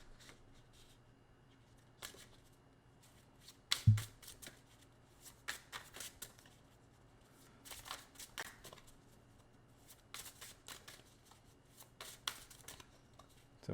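Cards are riffled and shuffled in several quick bursts with short pauses between, fairly faint and close, over a quiet background hum.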